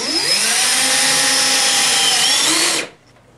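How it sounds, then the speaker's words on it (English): A power drill drives a screw into wood paneling while a bracket is mounted indoors: one loud, close whirring burst of almost three seconds that cuts off sharply into near silence. "for our interior installation, we are screwing into wood paneling"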